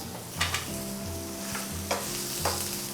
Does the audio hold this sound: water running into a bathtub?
no